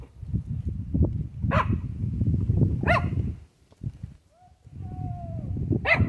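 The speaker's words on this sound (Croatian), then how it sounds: "Baš laje ovaj malo." A dog barks a few times in short sharp bursts, somewhat distant, over a steady rumble of movement and shuffling while walking down from a monastery.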